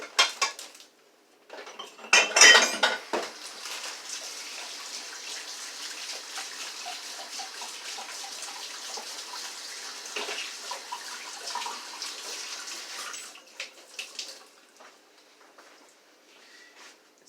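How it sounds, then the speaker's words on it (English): Hands washed under a running kitchen sink tap after handling raw chicken, a steady faint hiss of water with clinks of dishes or cutlery and splashing bursts, close and without talk. "let me wash my hands."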